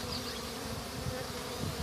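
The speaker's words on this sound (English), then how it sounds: "we got a wasp joining us here" A red wasp buzzes steadily close by for a couple of seconds, a continuous droning hum with slight swells as it moves.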